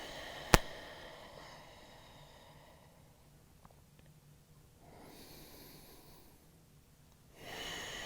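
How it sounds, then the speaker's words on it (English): Slow breaths drawn in and let out through the nose during a yoga workout come as soft, airy rushes, the first opened by a brief sharp sniff, then gentle exhalations, close and quiet. "Breathe in and out of the nose."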